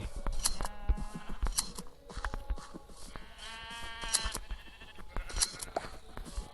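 Sheep in the Minecraft video game bleat repeatedly while being sheared, with clicking snips among the bleats over steady game background sound.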